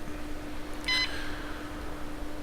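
An OBD scanner in Car Mechanic Simulator 4x4 gives one brief electronic beep midway, set against a steady low hum.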